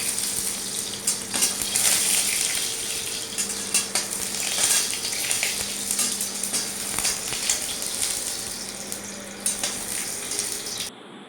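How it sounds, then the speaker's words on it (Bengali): Dry red chillies, whole garam masala, cumin and bay leaf tempering in hot oil for a restaurant-style soya chaap gravy: a steady, close sizzle with crackling spatters and a low hum underneath, continuous for about eleven seconds and no talking. "তেলের মধ্যে শুকনো লঙ্কা, গোটা গরম মশলা আর কিছুটা জিরে আর তেজপাতা দিয়ে ফোড়ন দিয়ে দিলাম"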